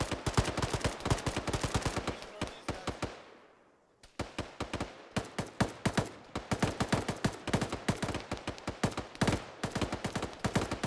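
Rapid rifle and machine-gun fire during an Arma 3 military-simulation cave assault, with dense bursts of sharp shots that trail off into an echoing fade before heavy firing resumes and continues steadily.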